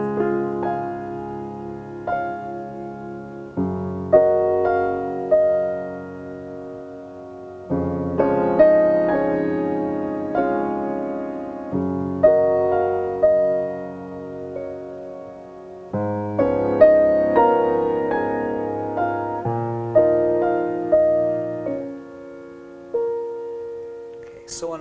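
A piano plays a passage from Debussy's Clair de lune, soft sustained chords and rolling notes in phrases that swell and fade, with pedal resonance and brief gaps between phrases, alone without talk.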